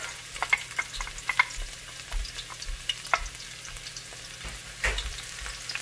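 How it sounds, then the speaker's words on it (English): Garlic sizzles in hot oil in a pan with a steady crackle and occasional stirring scrapes, close and alone, while sautéing for mung bean soup. "we're going to saute the garlic"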